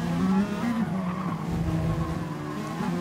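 A race car in a racing video game at Spa, with the engine revving hard and the tires squealing and skidding as it fights for rear grip through a tight chicane. The sound is loud and continuous.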